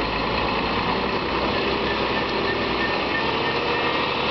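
Renault articulated tipper truck with wheels spinning on a loose surface while climbing in two-wheel drive, a steady, continuous engine roar at close range with no breaks.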